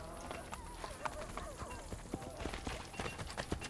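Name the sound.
horse hooves in video game Assassin's Creed Brotherhood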